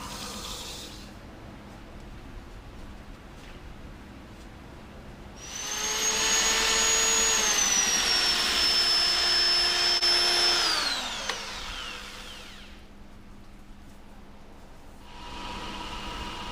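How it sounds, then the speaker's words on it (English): Box scraper truing the inside of a casuarina (Australian pine) bowl on a midi wood lathe, making light passes: a loud, steady whining scrape with a falling tone lasting about five seconds, between quieter lathe hum. "Got this box scraper, and to true up the inside, I made several light passes to get this thing nice and smooth"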